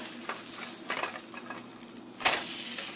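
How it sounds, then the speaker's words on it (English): An omelet fries in a pan with a soft, steady sizzle and light stirring scrapes, then a brief sharp clatter as it is flipped, all close up. "I'm going to flip this omelet over here."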